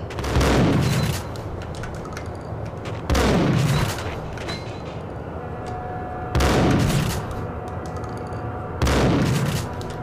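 Four heavy sniper rifle shots ring out in the video game Max Payne, each a loud booming crack with a lingering tail, spaced a few seconds apart.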